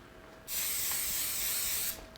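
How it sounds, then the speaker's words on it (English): A steady hiss from an aerosol coconut oil cooking spray, one continuous burst of about a second and a half, close and fairly loud with no talking. "I've got some coconut oil spray, what I'm gonna use."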